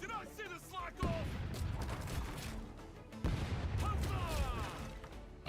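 Ship cannons boom in the pirate game Rogue Waters, two heavy broadside blasts with rumbling, crackling tails, mixed with shouting voices.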